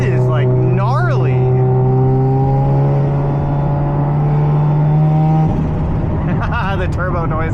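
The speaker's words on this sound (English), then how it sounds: "The turbo noises." A turbocharged Mazda RX-7 FD runs on a dyno, its rotary engine holding a loud, steady droning whine that shifts pitch near the end, with voices heard around it.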